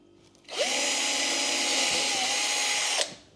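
A power drill whirs steadily for about two and a half seconds, drilling holes, starting and stopping abruptly, close and loud, with a slight pitch dip midway.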